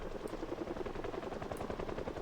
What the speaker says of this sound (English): We got multiple helicopters or something.